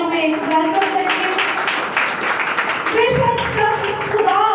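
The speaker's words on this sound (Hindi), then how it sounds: "खुदा बाप, बेटे, रूह कुद्स को हम जोरदार तालियों में वेलकम करेंगे।" A congregation claps loudly and steadily at a women's prayer meeting, the dense taps running under voices and a sustained tonal sound throughout.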